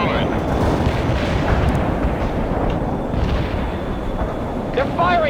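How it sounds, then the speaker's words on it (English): Combat in the video game World in Conflict: dense, continuous gunfire and artillery booms rumble loudly throughout, with a short whistling or radio-like sweep near the end. "They're firing at us."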